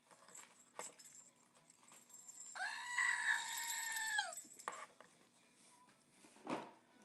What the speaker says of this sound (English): Scream the goat.